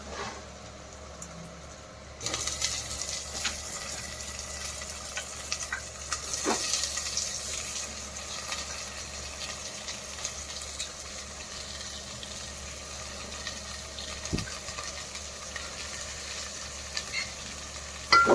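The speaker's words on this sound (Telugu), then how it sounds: "ఇప్పుడు క్యాబేజీ యాడ్ చేసుకోవాలి" Shredded cabbage tipped into a pan of cooked ginger-garlic paste for a cabbage keema fry sets off a steady broadband sizzle with scraping stirring strokes, starting abruptly after a quiet moment and continuing close and even with no talking.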